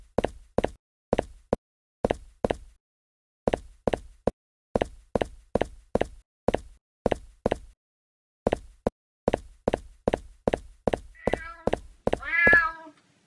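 A cat meows in the backyard level of the video game Scary Stranger 3D. A long run of regular thudding steps comes first, then a few drawn-out meows rise near the end.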